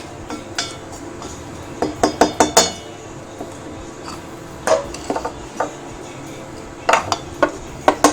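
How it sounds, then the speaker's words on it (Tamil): Clinks and scrapes of a spoon stirring homemade pickle masala powder in a large metal vessel, sparse at first and then coming in quick clustered bursts, close and moderately loud with no talking. "பெரிய ஒரு பாத்திரத்தில் எடுத்துக்கிட்டேன் நான் நல்லா இந்த மாதிரி மிக்ஸ் பண்ணிக்கோங்க"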